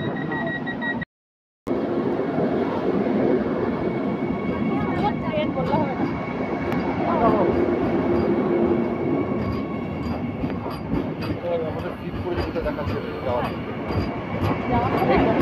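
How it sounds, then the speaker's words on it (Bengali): Aboard a Vande Bharat Express, the moving train gives a steady rumbling roar with rhythmic rail clatter, heard from inside the coach with people talking over it and a brief dropout near the start. "এই ট্রেনটি শীঘ্রই জাসিডি স্টেশনে পৌঁছাবে।"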